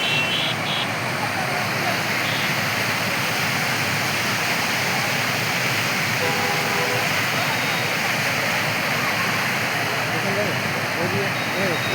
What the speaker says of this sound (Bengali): দেখো বন্ধুরা কত জল ছেড়েছে এদিকে